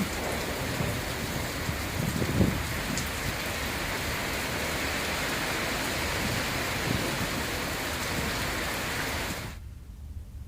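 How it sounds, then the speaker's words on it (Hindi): Heavy rain pours down in a dense, steady roar with a faint low rumble beneath, running unbroken before cutting off abruptly near the end. "झमाझम बारिश का दौर दोनों ही जिलों में जारी है"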